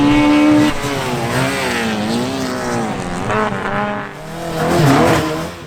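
A 1600cc Mini and an 1800cc Corsa race around a track, engines revving loudly as they pass close by, pitch rising and falling through gear changes, with a brief tyre squeal.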